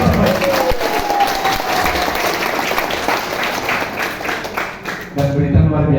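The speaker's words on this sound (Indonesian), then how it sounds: "Yang tepuk tangan tak doakan ikut dapat" An audience applauds at a marketing-plan presentation, steady dense clapping that swells and thins over several seconds before a voice and louder noise cut in at the end.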